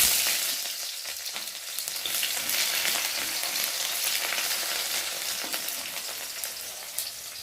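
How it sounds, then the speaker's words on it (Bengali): Onions sizzling in hot oil in a pan, a steady dense crackle and hiss that carries on evenly, moderately quiet and close, with no voices. "তেলটা গরম হয়ে গেছে, এখন পেঁয়াজগুলো তেলের মধ্যে ছেড়ে দেব।"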